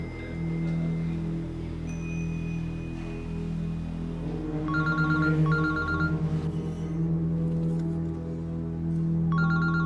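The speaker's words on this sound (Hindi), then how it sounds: "ये आलम अपने मोबाइल के बजाय अपने घर से फोन क्यों कर रहा है?" A home phone rings in a Pakistani TV drama, sounding in short repeated electronic bursts over a sustained low musical drone, then starting again near the end.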